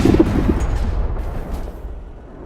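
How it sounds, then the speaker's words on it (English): A combat vehicle in Crossout, a spider-legged build armed with two Tsunami guns, fires a loud, close burst. The blast opens sharply and its booming rumble fades over about two seconds. "I'm shooting at the wrong one."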